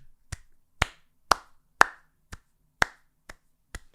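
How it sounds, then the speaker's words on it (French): One person claps slowly and unevenly, about eight separate sharp claps spaced roughly half a second apart, close and alone in a quiet room. "Non, j'applaudis."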